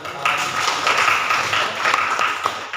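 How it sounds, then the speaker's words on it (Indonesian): A classroom of high school students claps for a classmate, a moderate, fairly even patter of applause heard from a little distance, continuing steadily for a few seconds without speech. "Tepuk tangan."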